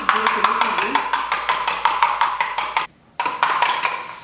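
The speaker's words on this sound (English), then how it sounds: "what I need to do is just to whisk this a little bit" Egg is whisked briskly in a bowl, a fast, even series of sharp clinking taps that pauses briefly before resuming, close and fairly loud.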